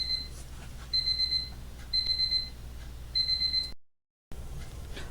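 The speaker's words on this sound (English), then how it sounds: "My medicine timer went off." A medicine timer alarm sounds in four evenly spaced bursts of shrill, high beeping over a low background hum, then cuts off briefly before the hum comes back.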